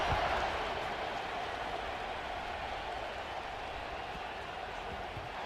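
Stadium crowd noise in EA College Football 26, a steady, broad roar of distant cheering that fades slightly over several seconds, with no clear talk.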